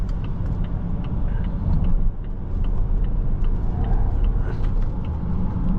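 A 2022 Volvo XC60 T8 Polestar Engineered accelerates briskly, a steady low road and engine rumble heard from the cabin with no talk.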